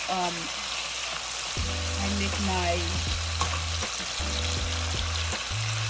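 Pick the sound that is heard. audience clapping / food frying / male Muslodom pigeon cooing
food frying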